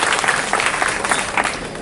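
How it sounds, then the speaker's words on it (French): Audience applause at the opening ceremony of the Dakar Court international film festival in 2024, a steady dense wash of many hands clapping throughout, with no talk over it. "j'aimerais vraiment qu'on applaudisse une fois de plus Arcos pour le travail remarquable"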